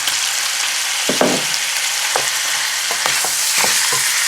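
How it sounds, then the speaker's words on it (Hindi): Freshly ground masala frying in ghee on high flame, a loud continuous sizzle broken by several spoon scrapes and stirring knocks against the pan, with no speech. "ये डालने के बाद मिक्स कर लेते हैं"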